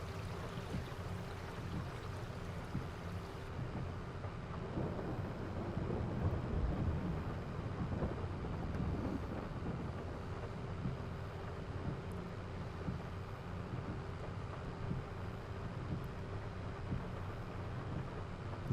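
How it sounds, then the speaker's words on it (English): Steady rain and wind wash over the drone of a New Holland tractor in the Farming Simulator game, a dense continuous noise bed that swells slightly midway and then holds even, with no talking. "Nice rainy drive in the New Holland."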